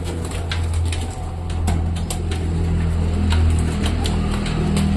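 Tumbler pigeons set loose outdoors coo in soft, repeated calls over a constant low hum of traffic and engines, with brief flutters and faint cars in the background.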